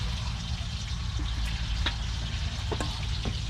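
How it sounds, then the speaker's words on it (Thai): Pork belly sizzles steadily in hot oil, a constant crackling fry with occasional sharper pops, fairly quiet and with no talking. "นั่นคือเสียงของการทอดหมูสามจั่น"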